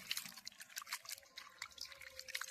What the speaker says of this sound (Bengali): এবার আমি জলেতে ধুয়ে নেব ভালো করে পুদিনা পাতা আর ধনিয়া পাতাটা ভালো করে আমি ধুয়ে নেব পরিষ্কার জলে